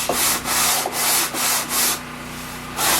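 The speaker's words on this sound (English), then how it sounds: "I just take a block and some 100 grit sandpaper" Someone sands the edge of a pine board with 100 grit sandpaper on a block, making rhythmic back-and-forth rasping strokes close up. The strokes pause briefly and then resume.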